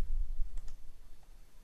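A mouse button clicks twice in quick succession inside PoolParty taxonomy software, short and crisp over a low steady hum, with nothing else happening.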